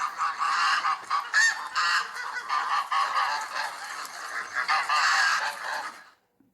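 A goose honks repeatedly in loud, harsh, nasal calls that run almost without pause for about six seconds, with no voices, before cutting off abruptly.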